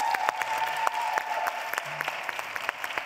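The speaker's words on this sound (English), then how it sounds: "Please give a big round of applause to these remarkable women." Applause from the audience after a panel discussion on gender equality, a steady stretch of many hands clapping with sharp individual claps standing out above a dense wash.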